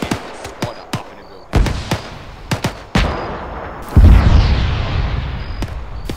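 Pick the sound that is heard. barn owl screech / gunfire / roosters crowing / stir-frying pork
gunfire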